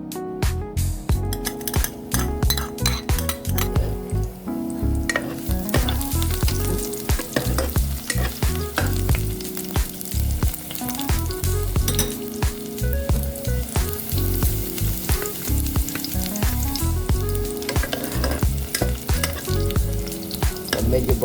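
Garlic sizzles and fries steadily in hot cooking oil in a pan, a dense continuous crackle with occasional stirring, loud and close with no talking.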